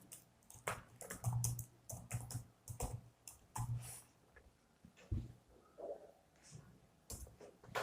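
Keystrokes on a computer keyboard as a template name is entered, uneven bursts of close, crisp clicks and taps with short pauses between words, fairly loud against a quiet room background.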